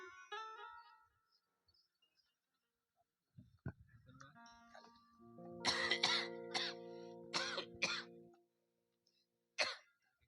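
A few harsh coughs and throat-clearing bursts in quick succession, near and fairly loud, with a short voice before and quiet gaps between.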